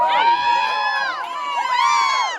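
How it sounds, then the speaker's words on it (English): Audience at a standup comedy show cheering and whooping loudly, a dense crowd of shouting voices sustained for a couple of seconds with rising and falling pitch. "Why the fuck did you cheer for that?"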